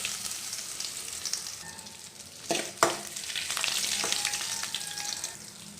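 Crushed garlic sizzles in hot oil with a cinnamon stick and fennel seeds, a soft continuous frying hiss broken by a couple of sharp stirring clatters midway, with no voices.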